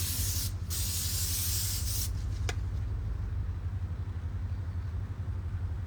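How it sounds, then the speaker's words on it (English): Cooking spray hisses onto a Masterbuilt grill in a couple of short bursts near the start, over a constant low mechanical hum that continues alone afterward. "I'm gonna give a little bit of a spray on the grill just so we don't have too much"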